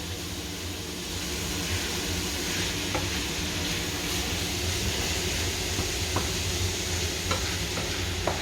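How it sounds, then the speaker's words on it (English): Pasta sauce cooking over high heat in a pan, a steady dense sizzle with a few faint spoon taps from stirring, close up and continuous without speech. "Stir it."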